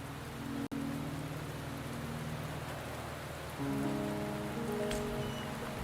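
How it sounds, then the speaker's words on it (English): Steady rain falls in the video game Wuthering Waves, a continuous hiss of drops on surfaces with a soft background tone and a single sharp click near the start, no voices. "The rain is subsiding, and the sky will soon clear."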